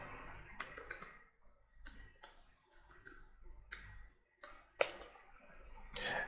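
Computer keyboard keys clack in irregular bursts of quick clicks while code is typed, close and fairly quiet, with short pauses between runs and faint room noise beneath.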